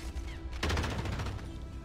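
A burst of rapid gunfire erupts partway through in the Warzone battle royale shooter game, coming from a building across the way. The shots are dense and repeated, moderately loud and lasting about a second.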